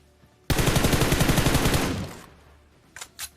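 Rapid automatic rifle fire in a battle royale video game: one sustained burst of about a second and a half, loud and close, then a fading tail and two short faint shots near the end.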